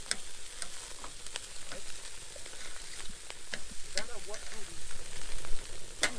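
Bacon fries over a campfire, a steady crackling sizzle with sharp pops throughout, fairly close, with a voice briefly audible.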